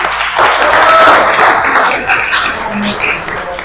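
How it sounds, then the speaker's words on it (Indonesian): A twelfth-grade social studies class breaks into steady, dense applause, many hands clapping together for several seconds at close range and fading slightly toward the end. "Kita beri aplaus untuk kita semua."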